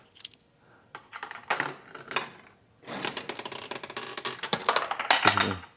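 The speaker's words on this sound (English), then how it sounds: "an extra penny in it will then drop the whole column to the winner" Pennies clatter and drop inside a vintage arcade penny machine, bursts of rapid metallic clinks and rattles that build to a louder cascade near the end.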